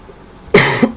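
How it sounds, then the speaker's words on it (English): A person coughs sharply and close up after a moment of quiet, one harsh burst followed by a second short cough. "Excuse me for coughing so much."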